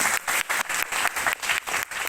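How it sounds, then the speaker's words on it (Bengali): Audience at a stage play applauds the director, with steady, dense clapping throughout. "তার জন্য একটা তুমুল করতালি"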